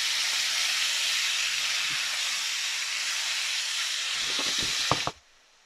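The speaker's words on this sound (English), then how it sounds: "Right, so that's the meat browning." Meat browning over high heat in a hot pan, giving a steady, loud broadband sizzle that holds throughout, with a few sharp pops and crackles near the end before it cuts off abruptly.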